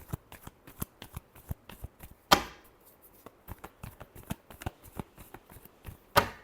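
Tarot cards being shuffled by hand in a rapid run of crisp riffling taps and slaps, with two louder bridging flutters standing out, close and alone without any voices.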